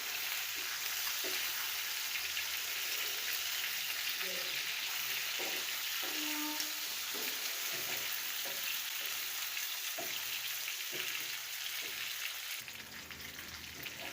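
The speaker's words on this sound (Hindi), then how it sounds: "1 टीस्पून लाल मिर्च, इसको हम अच्छे से फ्राई करेंगे।" Red chili powder for fish curry fries in hot oil with a steady, close sizzle that runs throughout, punctuated by a few soft clinks and stirring scrapes.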